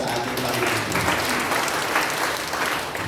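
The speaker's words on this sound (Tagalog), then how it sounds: "Lahat ng masaya magsabi ng Amen at pumalakpak ng malakas sa ating Panginoon." A church congregation breaks into sustained, dense applause, many hands clapping steadily at a fairly loud level for the whole stretch, with no clear speech over it.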